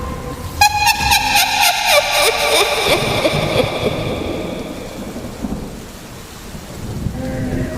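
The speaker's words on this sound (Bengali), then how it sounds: "বৃষ্টি বাড়ে" Heavy rain pours while thunder rolls and cracks in a spooky horror-story scene, opening with a loud crash that fades into a continuous downpour.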